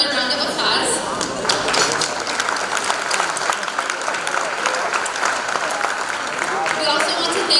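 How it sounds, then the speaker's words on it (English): Audience clapping at a Macedonian tribute ball gala, a steady wash of many hands applauding for several seconds, moderately loud and continuous. "So please give them another round of applause."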